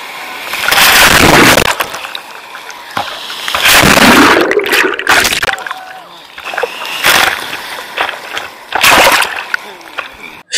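Sea waves at Digha beach crash and splash in repeated loud bursts with brief lulls between them, and voices are heard now and then.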